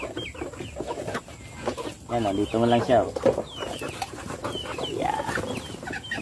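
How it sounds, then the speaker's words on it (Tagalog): Chickens cluck and rooster-like calls rise in bursts on a farm where ducks are also kept, mixed with several people talking nearby. "Ayan, dami natin mga manok."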